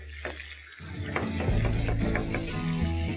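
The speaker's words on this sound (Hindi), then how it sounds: "ऑयल में अदरक लहसुन शामिल किया, चिकन शामिल किया, हल्का सा से करते हैं मिक्स" Chicken pieces sizzle steadily in hot oil with ginger and garlic as they are stirred in a pan, a close, continuous frying hiss with soft scraping that starts abruptly and holds at an even level.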